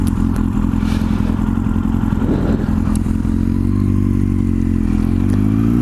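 A motorcycle on a fast freeway drones loudly and close, its engine pitch dropping and climbing again as gears shift from first to second, with some clattering wind buffeting throughout.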